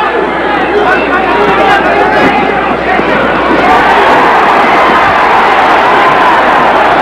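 Dense, loud crowd roar from a 1980 USA vs Cuba amateur boxing bout fills the whole stretch, a steady wash of cheering and shouting voices with no break.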